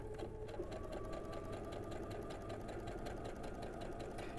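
A sewing machine stitches the top row of a quilt block, running steadily and continuously at close range with a constant mechanical hum and rapid needle rhythm throughout.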